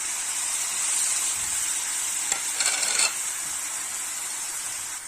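Taro with onion, spices and dried fish frying in a pan, a steady close sizzle throughout with a brief scrape of stirring in the middle, no talking.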